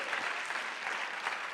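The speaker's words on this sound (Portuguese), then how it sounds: "Se aplaudir, fica melhor ainda." Steady applause from a church congregation, dense clapping throughout without pause.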